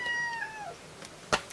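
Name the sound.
cat meowing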